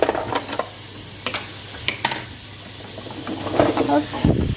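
Food sizzles in a pan while a wooden utensil stirs it, giving scraping knocks and clatter over a steady frying hiss, with brief talk in the background.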